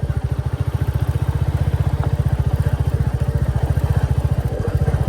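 A black Royal Enfield Bullet 350 Battalion motorcycle thumps along an unpaved hill road, its single-cylinder engine giving a loud, close, rapid and steady beat throughout, with no speech.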